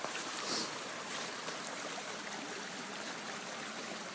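A brook runs high in winter, tumbling down toward a near-full pond beside the ruins of an old mill system, giving a steady, even rush of water that carries on without a break.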